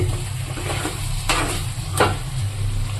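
Chicken pieces deep frying in oil with green chillies, a steady close sizzle broken by two brief louder bursts of stirring or splashing, with no talking.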